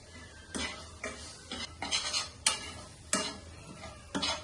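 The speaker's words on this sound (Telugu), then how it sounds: "ఇవన్నీ వేసి ఇలా కలుపుకుని పక్కన పెట్టుకుని పోపు పెట్టుకుందాం" Hot pieces are mixed with salt, chili powder and turmeric for a karonda chutney, producing about eight distinct scraping stirring strokes against a pan or bowl in an uneven rhythm, close and clear with no talk.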